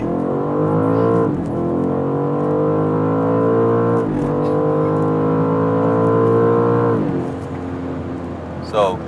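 A BMW G99 M5 launches hard in MDM mode with traction control off, its engine climbing loudly in pitch through several quick gear changes with brief dips between them, and a voice speaks near the end.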